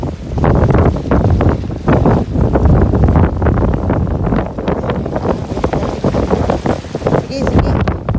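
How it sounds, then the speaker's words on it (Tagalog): Strong wind buffets a fishing boat out on the water, a loud continuous roar with gusty surges, with people talking throughout. "Masyadong hangin."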